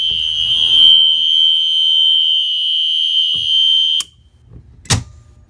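A warning siren on its special alert continuous setting blares a steady, piercing high tone for about four seconds, then cuts out abruptly, leaving quiet and a single sharp click.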